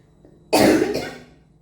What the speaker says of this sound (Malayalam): ഇടയ്ക്കിടയ്ക്ക് ചുമ